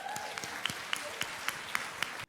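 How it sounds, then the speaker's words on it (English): Audience applause after a punchline in a speech, a steady dense wash of clapping with sharper periodic claps standing out, loud and sustained before cutting off abruptly at the end. "They can applaud that punchline"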